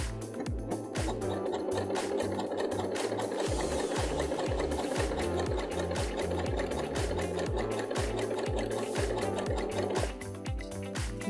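Sewing machine running a small zigzag stitch through thick wool yarn, a loud steady rapid mechanical chatter with rhythmic needle thumps lasting throughout, close and alone.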